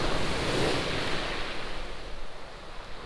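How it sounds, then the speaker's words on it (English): Surf crashing steadily onto a shingle beach in Sussex, a loud, continuous broadband roar of breaking waves close by, with wind buffeting the microphone and no voices. "it's going to be tricky getting it through that last bit, through the waves. You can see they're really crashing in."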